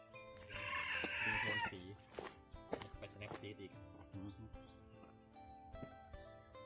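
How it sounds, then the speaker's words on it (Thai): Rooster crowing outdoors among trees on a forested mountain in the morning, one long loud crow near the start followed by clucks and calls over a steady chorus of insects. "บวกกับเสียงไก่ของผมนะครับ"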